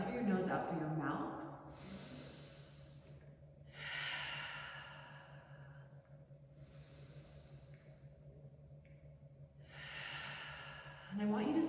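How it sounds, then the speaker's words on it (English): Slow yoga clearing breaths, drawn in through the nose and pushed out through the mouth in audible, airy exhales, repeated several times at a calm pace over a quiet hum. "let's take a few rounds of clearing breath in through your nose, out through your mouth"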